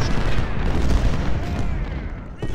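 Cannon artillery fire in the Civil War strategy game Ultimate General: Civil War at the Battle of Antietam, a dense continuous rumble of booming shots layered together at steady loudness, with a brief dip near the end.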